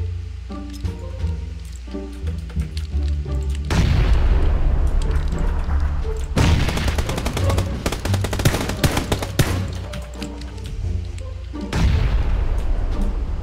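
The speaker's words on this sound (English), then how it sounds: "Did my other frag grenade just kill that guy?" A frag grenade explosion in PlayerUnknown's Battlegrounds: loud booming blasts and bursts of rapid gunfire in several heavy clusters, with dense rumbling between them and no voice.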